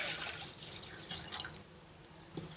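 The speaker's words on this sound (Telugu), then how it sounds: "ఒక గిన్నెతో నీళ్లు పోసుకొని" Water trickles and splashes softly and quietly as it is poured into a cooking pot on a stove to make drumstick rasam, a short run of light dripping and liquid sounds with no voices.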